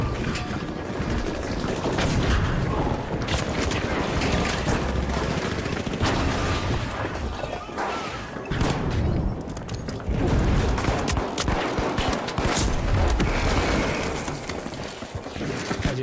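Pistol gunfire in a video game aim benchmark, a long run of rapid close shots with only brief pauses, layered over busy game noise.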